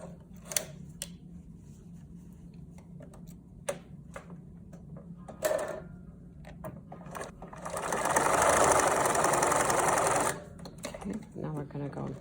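An old Bernina sewing machine stitching fabric for a face mask, with short mechanical runs and clicks and a louder sustained whirring burst midway. Quiet talk can be heard in places.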